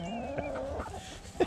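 A young rooster giving short, scratchy crowing calls among farm chickens, fairly close, with a brief louder squawk at the end.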